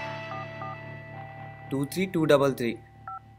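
A phone keypad gives a few short dialing beeps, then someone talks over them, and one last tone sounds after he stops.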